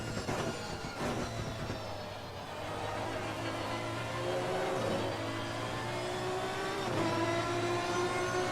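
Audi race car engine in the Assetto Corsa Competizione racing game during a 12 hours of Bathurst race, a continuous engine drone that rises through gear changes, with drops and repeated climbs in pitch, alone without talk.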